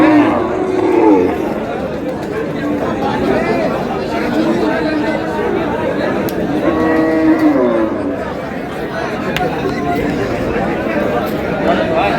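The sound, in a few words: beef cattle at a livestock market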